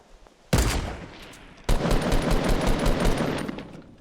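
Two sudden bursts of rapid automatic gunfire rattle loudly in a Fortnite 50v50 match, the second burst rolling on for a few seconds as dense overlapping shots with no voices over it.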